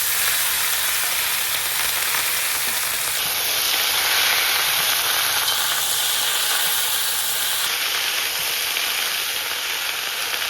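Malabar spinach sizzles and hisses with fried potatoes in a wok, a steady loud frying noise with close steam hiss throughout and no talking.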